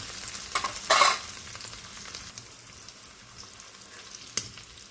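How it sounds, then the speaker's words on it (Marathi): Prawns sizzle in a pan with a low, steady crackle, punctuated by a few sharp scraping stirs of a spatula. "आता मी बाकीची पण सर्व फ्राय करून घेते"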